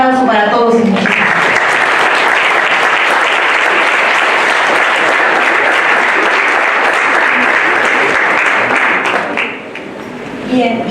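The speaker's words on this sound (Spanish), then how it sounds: "Un aplauso para todos y muchas gracias" A hall audience at a university law faculty book presentation bursts into loud, sustained applause, with dense clapping that holds steady for about eight seconds before tapering off. A voice speaks briefly just before the clapping starts and again as it fades.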